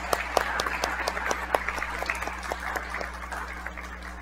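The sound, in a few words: applause welcoming children at church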